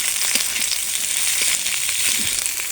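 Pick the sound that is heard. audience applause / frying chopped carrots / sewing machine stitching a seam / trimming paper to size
frying chopped carrots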